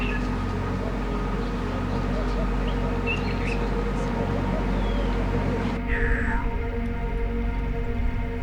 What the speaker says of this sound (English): the bird life and sounds are a bird's dream